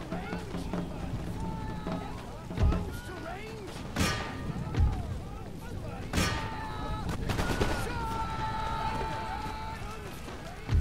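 Musket volleys in the strategy video game Empire Total War, scattered sharp cracks over a busy battlefield din, heard under steady voices talking.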